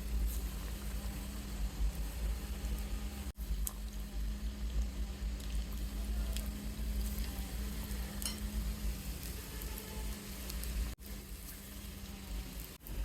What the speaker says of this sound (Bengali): সেই ফ্লেমটা মিডিয়াম টু লো হিটে রাখ রেখে আমি বড়াগুলি ভেজে নিচ্ছি